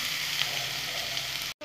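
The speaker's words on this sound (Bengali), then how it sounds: "বন্ধুরা, বেগুনগুলো ভাজা হয়ে গেছে।" Eggplant slices sizzle steadily in hot oil in a home kitchen pan, a dense continuous frying hiss that holds even and close before cutting out abruptly at the very end.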